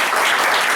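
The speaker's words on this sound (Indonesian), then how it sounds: "Boleh dong dikasih tepuk tangan yang lebih meriah lagi dong." Dense audience applause at a seminar, a brief burst of many hands clapping together in a continuous wash.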